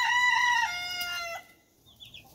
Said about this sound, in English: I'll show you my rooster up front.